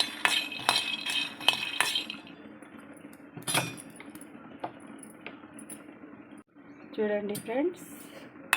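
Peanuts dry-roasting without oil in a pan, with irregular clinks and scraping taps of a spoon stirring them, close by, under a person talking.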